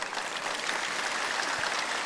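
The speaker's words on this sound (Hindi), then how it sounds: "एक बार जोरदार ताली बजा दो इसके लिए" Applause from an audience at a yoga and health gathering, a soft, steady rush of clapping heard at a distance with no distinct individual claps.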